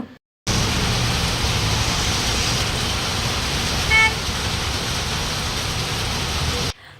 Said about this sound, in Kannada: ಸಿಕ್ಕಾಪಟ್ಟೆ ಮಳೆ ಬಂದುಬಿಡ್ತು